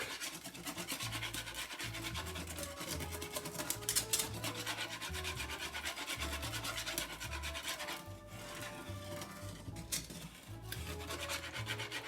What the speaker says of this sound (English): I typically use a whisk during this whole process to make sure I don't have any lumps